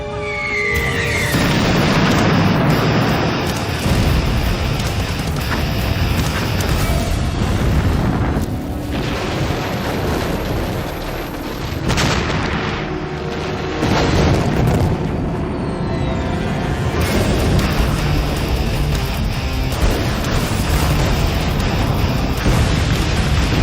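Huge 90,000-gallon chemical tanks burst open as their metal casings crack, escaping vapor hurling them a hundred feet into the air: a loud, sustained roar of deep booms and rumbling blasts that swells and surges throughout.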